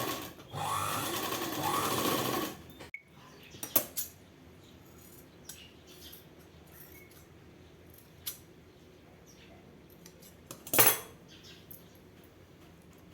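A sewing machine stitches a cross piece of fabric for a neck piping, with one loud, fast run of about two seconds, then quiet handling with faint clicks and a short clack near the end.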